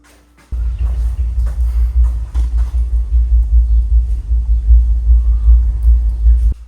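A new CNC press brake gives off a loud, deep throbbing rumble that starts abruptly and pulses steadily for several seconds, with no one talking over it.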